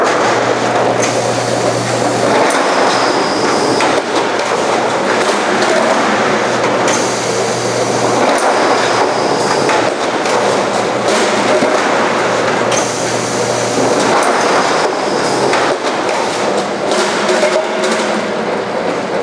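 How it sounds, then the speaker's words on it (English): A Model 648P power shear runs in auto mode cutting metal, a loud continuous mechanical roar with repeated cycling surges and clanks roughly every few seconds, no voices. "That's the power shear."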